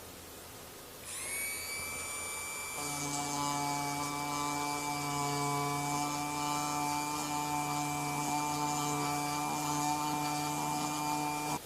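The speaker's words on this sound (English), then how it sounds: "So for that I'm going to use a Dremel tool." A Dremel rotary tool spins up to a sustained high-pitched whine, then steadies into a loud, even drone while grinding open a crack in boat gelcoat, continuing without pause until it cuts off.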